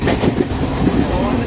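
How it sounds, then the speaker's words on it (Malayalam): A passenger train pulls into a railway station in Kerala, its low rumble and rolling clatter continuous and fairly loud, with people talking nearby throughout. "ട്രെയിൻ വന്നു"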